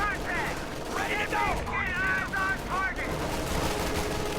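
Artillery and gunfire in a real-time strategy battle, with leFH howitzers firing: dense, continuous rattling shots and blasts layered under busy game effects and a faint talking voice.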